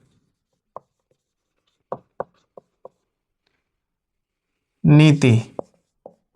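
Chalk or marker taps and strokes on a board in short, sharp, scattered bursts during a history lesson, with a brief spoken word between them in an otherwise quiet room.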